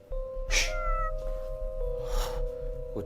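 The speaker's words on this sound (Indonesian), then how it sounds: "Kucing kali." A cat meowing twice, close and fairly loud, with two drawn-out calls separated by a steady electrical hum and faint background noise.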